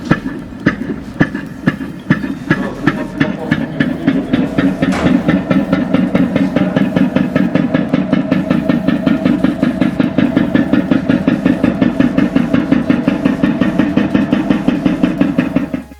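Daimler one-cylinder 'grandfather clock' engine runs loud and close, a rapid, evenly spaced chugging knock with a strong low throb and metallic ticking, steady throughout with no voices.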